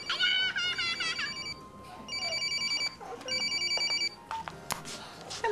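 A telephone rings with repeated electronic trilling bursts, fairly loud and close, with some background room noise and movement between rings.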